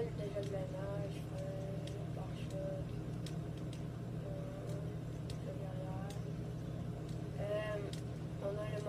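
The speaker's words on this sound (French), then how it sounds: "Moteur qui est au max." A car engine in the video game GTA 5 held at maximum revs, giving a steady, unbroken droning hum beneath someone talking throughout.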